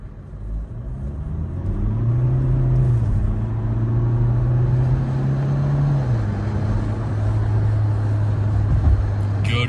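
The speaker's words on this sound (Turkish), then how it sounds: "Şöyle sizin için Sport Plus sürüş moduna alıp kalkış yapacağım." A Mercedes W205 C200 sedan with a 1.6 diesel engine pulls away from a standstill in Sport Plus mode on a coastal road, its loud engine rumble rising and holding through the gears with no one talking.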